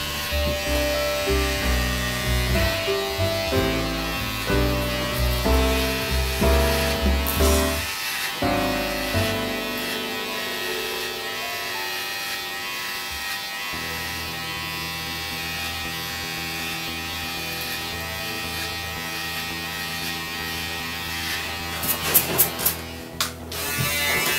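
A steady electric buzz of hair clippers with a 0.3 mm blade runs throughout a skin fade haircut, its tone shifting as the blades move through hair, with brief clicks near the end.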